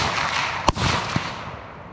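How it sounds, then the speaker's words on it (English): An AK rifle fires a single sharp, loud crack over a steady windy outdoor hiss, followed by a fainter second pop about half a second later. "I'm going to go ahead and fire off my AK"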